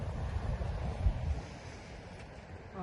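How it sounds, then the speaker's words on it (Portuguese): Sea waves at a beach wash in with a low, steady rushing surge, loudest early and then easing, with some wind noise on the microphone. "Chegamos no mar, chegamos na praia"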